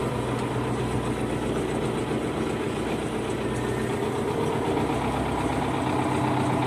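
A New Holland tractor engine idles steadily during rapeseed sowing, a continuous low, even rumble with no speech, close and unchanging throughout.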